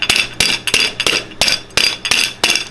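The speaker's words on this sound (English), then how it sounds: "Hit that with the rolling pin one time" Rolling pin whacking chickpeas on a kitchen surface, about nine sharp thuds at an uneven pace, close and fairly loud, each with a brief crunchy rattle and nobody talking.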